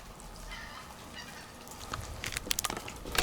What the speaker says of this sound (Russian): Блин, это утки. Летят утки